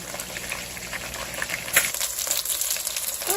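Chicken thighs fry in oil in a pan with a steady close sizzle and crackle, a continuous hiss with small pops and no talking.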